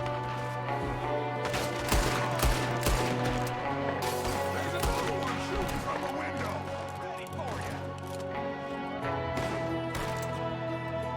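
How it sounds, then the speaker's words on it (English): Repeated gunshots from a window in Red Dead Redemption 2, with scattered loud cracks and volleys over tonal background music, continuing for several seconds. "There's another one shooting from the window."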